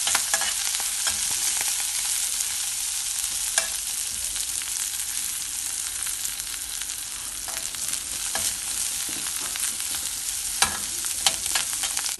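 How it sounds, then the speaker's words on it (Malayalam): Shallots and asafoetida frying in coconut oil for a tamarind dish, a continuous bright sizzle with intermittent stirring clinks and scrapes throughout. "കായവും ചെറിയ ഉള്ളിയും എല്ലാം കൂടെ മൂക്കുമ്പോൾ നല്ലൊരു മണമാണ്."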